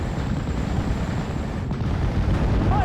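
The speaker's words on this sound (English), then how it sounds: "Just trying to get that ammo explosion, and there we go" Tank ammunition cooking off in Steel Division: Normandy 44, a loud, dense rumbling blast over continuous battlefield noise, sustained across the whole stretch without speech.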